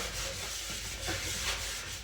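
Cloth wiping over a spruce burl wood surface freshly sanded to 600 grit, using mineral spirits: a steady, soft rubbing swish that runs continuously and close up, with no talking.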